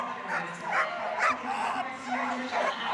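Dogs in the Crufts flyball competition arena bark and yip repeatedly in short excited bursts amid crowd noise, with a commentator talking over them.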